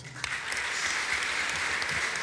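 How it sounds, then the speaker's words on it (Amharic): Applause from a congregation at an Orthodox church service, a steady, dense wash of clapping that fills the whole short stretch at an even level with no voices on top. "አጨብጭቡላት"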